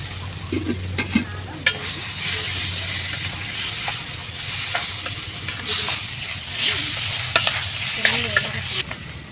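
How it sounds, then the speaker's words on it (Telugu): Ginger garlic paste going into a tomato curry frying in a village kitchen: a steady loud sizzle with stirring scrapes and occasional clicks of the spoon against the pot. "ఇదిగోండి మా అక్క అయితే ఇప్పుడు అల్లం వెల్లుల్లిపాయ పేస్ట్ అయితే వేస్తుంది కూరలోకి"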